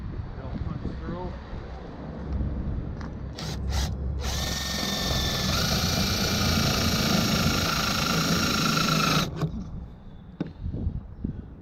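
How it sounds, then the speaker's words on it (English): A power drill whines steadily for several seconds at close range, boring a hole for a wing install on a 2016 Subaru STI, starting and stopping abruptly, with quieter rustling and brief bursts before and after. "I'm gonna have to use a regular drill bit"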